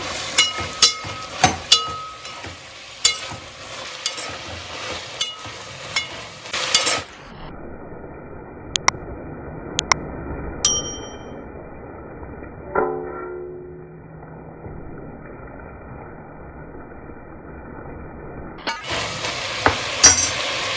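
Ginger garlic paste fries with masala and mushrooms in a pan, giving crackling sizzle and clinks of a utensil against metal. The sound drops to a near-silent gap midway, with only a few clinks, before the sizzle returns.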